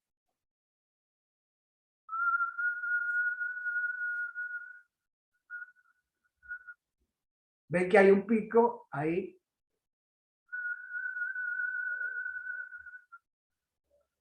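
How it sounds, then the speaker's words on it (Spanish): A person whistles a long steady tone, pauses for a couple of short chirps and a brief spoken remark, then whistles the same steady pitch again. "si yo hago un silbido"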